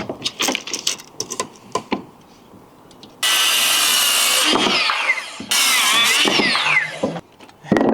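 Timber noggings for wall framing are cut with a power saw, two loud sustained cuts with buzzing blade whine after some knocking and handling of wood, close by and without speech.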